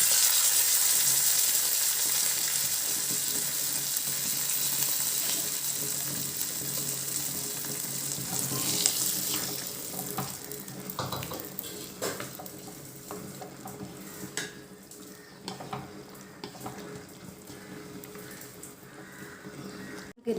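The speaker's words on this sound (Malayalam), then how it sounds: "ഇനി ആ താളിപ്പ് നമുക്ക് ഈ കറിക്കകത്തേക്ക് ഇട്ട് കൊടുക്കാം" Hot tadka tempering goes into a vegetable kurma curry, giving a loud broadband sizzle at first that gradually eases into bubbling and scattered clinks and stirring scrapes over about twenty seconds.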